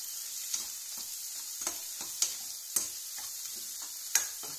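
Chicken fries in a pan with egg, a quiet constant sizzle punctuated by repeated light clicks and scrapes of a spatula stirring every second or so.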